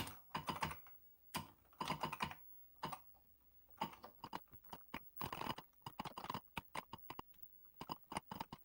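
Program being typed on a 1983-era Atari 8-bit computer keyboard: bursts of rapid, close key clicks separated by short pauses, with no talking.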